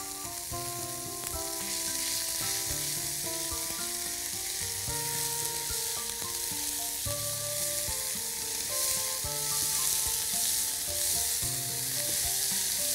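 Ground meat sizzles steadily in a hot pan while being stirred, a continuous frying crackle with soft music playing underneath.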